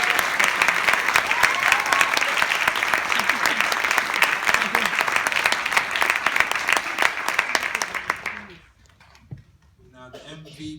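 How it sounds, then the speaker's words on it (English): A crowd at an end-of-season team awards gathering applauds a coach's award winner with loud, sustained clapping for about eight seconds that then stops abruptly, leaving quiet room noise and faint murmurs. "So please give a big round of applause to my coach's award,"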